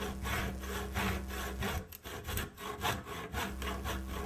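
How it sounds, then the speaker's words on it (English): Steady back-and-forth sawing through a 1x3 wooden board, a continuous rasping rhythm close by with brief pauses midway, no voices. "Now I'm sawing off the nut section"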